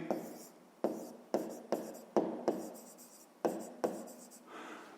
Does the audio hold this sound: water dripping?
no